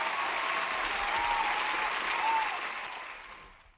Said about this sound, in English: Give them some claps.